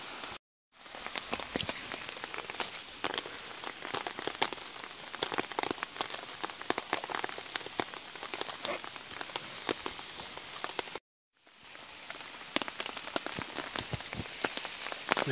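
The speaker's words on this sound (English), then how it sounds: "Rain is falling." Steady rain patters on surfaces in a Carpathian forest during a hike, a soft, even hiss of drops with two brief silent breaks.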